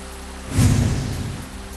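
Heavy monsoon rain pours in a steady broadband hiss that swells briefly louder, with a low rumble underneath, no voices present.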